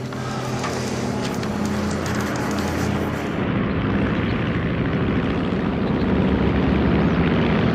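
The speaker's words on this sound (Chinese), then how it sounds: "不是轰炸机，是一架运输机，在上头兜圈子了。" A transport plane circling overhead, its steady propeller engine drone filling the air as a loud, continuous rumble that barely changes over several seconds, with no talk.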